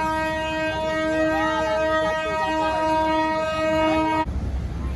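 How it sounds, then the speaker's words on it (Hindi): Toy train on the Bilimora–Unai line pulling into the station, sounding a long loud sustained horn up close before it cuts off to rumbling platform noise. "आ गए हमारी टॉय ट्रेन"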